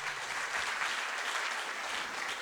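A college talk-show audience gives a round of applause. The clapping is a steady, fairly quiet wash of many hands, continuous throughout with no talking over it.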